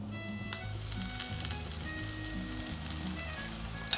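Pesarattu, a green gram dosa, roasting in oil on a pan, giving a steady close sizzle with faint crackles and a low background hum throughout.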